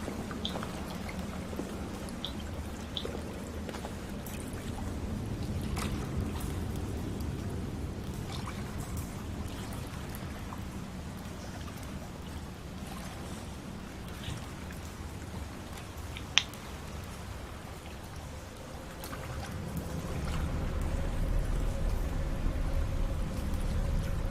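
A waterfall in the SOMA mod Argos video game gives a steady, close rush of falling water, a dense continuous hiss with a low rumble that swells slightly toward the end, no speech.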